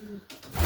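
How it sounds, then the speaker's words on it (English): A cock pigeon held in the hand gives a brief, close, low coo against a quiet background, with no talking. "Lovely cockbird, absolutely fantastic pigeon in the hand."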